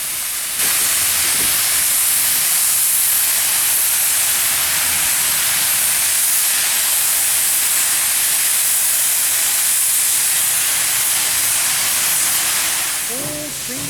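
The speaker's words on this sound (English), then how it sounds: "the train begins its track back up the Greenbrier River back to Durban" Durbin Rocket steam train travelling along the Greenbrier River, a loud continuous steam hiss that holds steady for the whole span, with low rumbling rail noise beneath and a faint tonal whistle-like sound at the very end.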